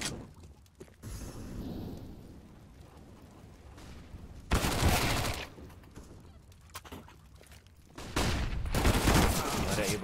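Gunfire from a professional Counter-Strike: Global Offensive esports match in ESEA league play: two loud, close bursts of rapid automatic fire, the second longer, set against quieter in-game ambience and scattered smaller shots.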